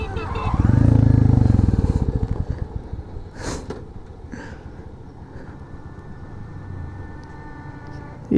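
A motorcycle on a road trip in Bangladesh runs loudly up close, then its engine cuts out after a couple of seconds, leaving quieter background and people talking.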